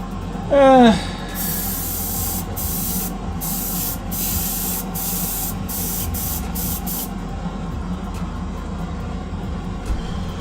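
A steady high hiss of an airbrush spraying base-coat paint onto Greek-style vases runs in bursts with brief gaps, after a short rising whistle-like sound near the start.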